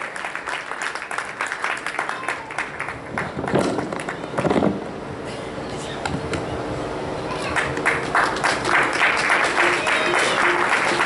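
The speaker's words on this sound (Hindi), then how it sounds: "जोरदार तालियों से कृपया आप उनका अभिनंदन करें" An audience applauds at a satsang grand finale award ceremony, steady clapping running through the clip, rising after a brief lull, with voices mixed in among the crowd.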